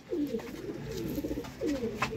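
Chuha breed pigeons cooing close by, two soft rolling coos separated by a short pause, with faint background hiss and no talk.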